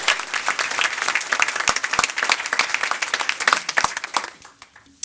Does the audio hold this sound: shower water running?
no